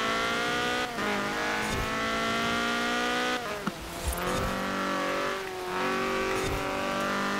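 A Ford Escort, likely Cosworth-powered, races in Forza Horizon 4 on a wet custom track, its engine revving hard and steady with gear changes and brief tire squeals, loud and close throughout.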